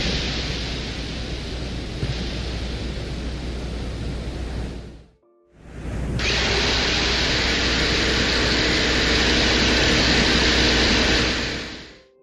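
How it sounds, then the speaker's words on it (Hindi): A dense, rushing broadband roar recorded by the Venera 14 lander on Venus during landing and drilling, steady and loud, dropping out briefly before surging back. "उस माइक्रोफोन ने लैंडिंग और ड्रिलिंग की आवाजों को वैज्ञानिकों को सेंड किया था"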